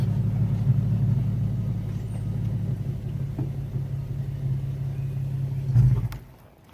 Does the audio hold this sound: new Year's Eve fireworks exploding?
no